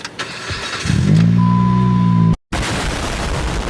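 A Dodge engine cranks on its first start attempt with a loud, close whir lasting about a second. A brief silent gap follows, then steady broadband noise.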